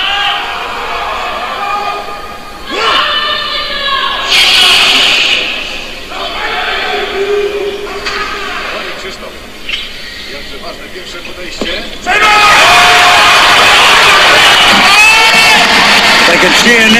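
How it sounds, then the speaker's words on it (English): A home crowd at a weightlifting championship cheers and roars, rising in surges with thuds and a commentator talking over it, then swelling into a loud sustained roar near the end. "home support, making an absolute racket, lifting the roof off"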